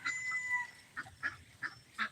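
Ancona ducks on a poultry farm in North Carolina give a string of short honking quacks, about five separate calls spaced irregularly, fairly faint over quiet background noise.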